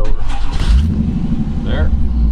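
A 1951 Mercury Custom convertible with an LS1 engine cranks and fires up, a loud low rumble settling into a deep idle, with someone talking over it close by.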